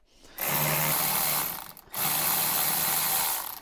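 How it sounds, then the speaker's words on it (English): An old power ratchet whirs loose the long front seat screws of a Land Rover Defender, two sustained buzzing runs of about one and a half seconds each with a brief pause between. "I've got my old power ratchet because, as you can see, they is well long, those screws"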